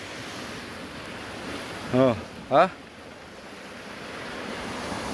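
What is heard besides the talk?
ocean waves breaking on the South Korean east coast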